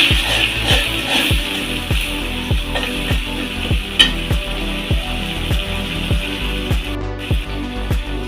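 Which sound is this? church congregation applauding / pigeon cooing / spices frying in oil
spices frying in oil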